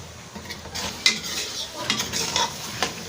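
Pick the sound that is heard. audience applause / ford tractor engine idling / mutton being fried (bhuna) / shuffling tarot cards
mutton being fried (bhuna)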